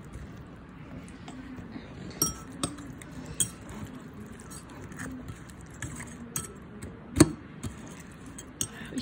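A fork stirs food in a dish, giving faint, scattered clinks and scrapes against a quiet background, with a few sharper taps standing out.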